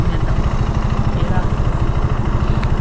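A Royal Enfield GT650 motorcycle idles close by with a loud, steady low throb, while people talk over it.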